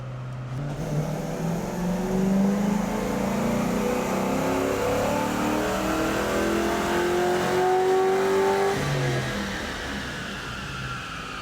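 A car engine revs hard on a rear-wheel dyno after intake, exhaust, cold air kit, throttle body and pulley upgrades, climbing steadily in pitch through a long sustained pull before dropping off, loud and alone.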